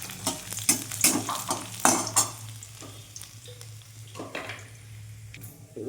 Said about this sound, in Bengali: রসুনটা একটু ভেজে নেব।